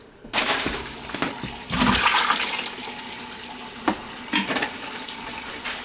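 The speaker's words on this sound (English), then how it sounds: "I'll rinse that out with water." Running tap water splashes and gurgles into an empty Prego spaghetti sauce jar, loud and continuous, with a few clunks as the jar is moved and rinsed.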